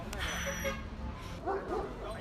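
Small pet dogs, Teddy-type poodles, give short yips and whimpers close by, heard under a person talking.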